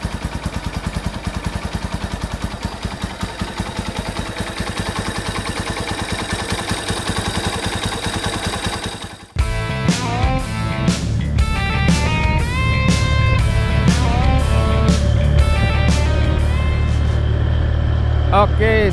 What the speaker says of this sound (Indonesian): ini kondisi pakai Noken As standar. Suaranya begini ya.